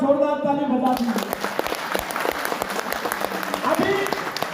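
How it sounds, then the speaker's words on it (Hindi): Loud, sustained applause from a seated audience at an RCM seminar in a hall in Sivasagar follows a speaker's voice, with dense clapping continuing for several seconds. "इनके लिए एक बार जोरदार ताली बजा दीजिए।"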